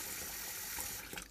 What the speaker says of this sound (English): you run some cold water over them